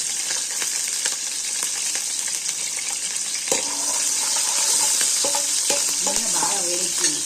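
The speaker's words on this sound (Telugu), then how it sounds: "అయితే వేడెక్కింది, మసాలా దినుసులు వేస్తాను. ఇలా అన్నీ చూడండి. అవి గోల్నే పచ్చిమిర్చి వేస్తాను." Whole spices and green chillies fry in hot oil, a soft steady sizzle with a few light taps, then a sharp louder burst of spitting and stirring midway as the chillies go in.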